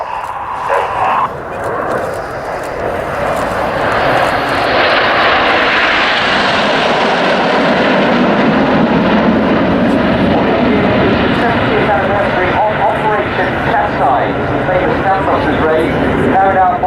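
Several jets flying past together in close formation at an air show, a loud sustained roar that swells and holds steady, with a commentator talking over it throughout.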